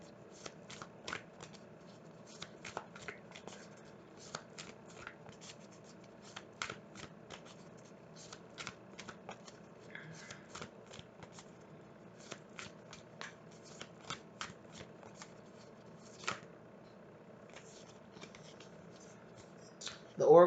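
Oracle cards being shuffled, repeated soft papery riffles and flicks in irregular bursts, close and quiet, with a faint click at the end.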